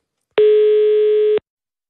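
A telephone line tone during a call placed from a Danish radio studio: a single steady, loud beep lasting about one second, alone and with no talk.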